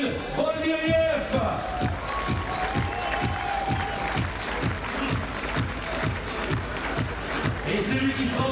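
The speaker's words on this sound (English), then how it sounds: "Applaudissements pour Danil Boldiriev." A crowd at an IFSC speed climbing World Cup finals in Chamonix applauds a Ukrainian climber, steady clapping and cheering carrying through under a loud announcer's voice over a public address system.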